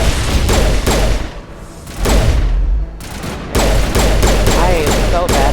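Rapid gunfire bursts and booming shots from a video game shooting sequence, loud and close, coming in repeated volleys separated by short lulls.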